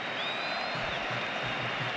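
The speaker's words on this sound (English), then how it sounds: "Round of applause from Carlo Ancelotti." A stadium crowd at a Barcelona versus Real Madrid football match applauds steadily as a substitute comes on, a broad wash of clapping and cheering that stays even and fills the whole moment.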